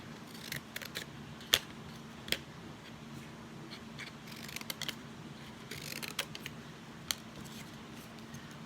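Scissors snip paper fin shapes close up for a fish collagraph, quiet intermittent cuts and rustling with a few sharper clicks spread over several seconds.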